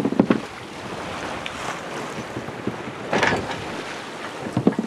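An Alberg 30 sailboat moves through ocean swell near Main Duck Island, with steady wind rush, water washing along the hull and a couple of louder splashes or thumps, heard up close.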